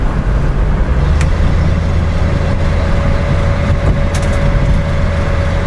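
A Datsun 280Z engine idles steadily nearby, a continuous low rumble with a faint steady whine and no talking.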